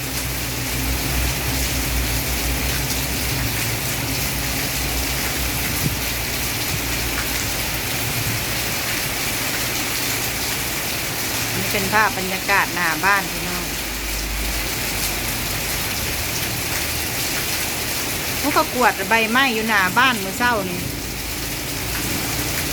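Steady rain pours down in front of a house during a windy thunderstorm, a continuous hiss throughout with someone speaking over it in two short bursts.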